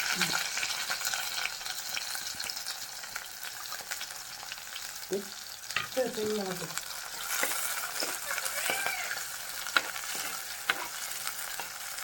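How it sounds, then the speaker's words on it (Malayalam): Ginger, garlic and shallots fry in a pan for a Kerala fish curry, a low steady sizzle broken by stirring scrapes and spoon clinks, with faint speech in the background. "ഇഞ്ചി ചാച്ചതും വെളുത്തുള്ളി പിന്നെ ചെറിയുള്ളിയും കൂടെ ചെറിയുള്ളിയും കൂടെ ഇട്ട് കൊടുക്കാം"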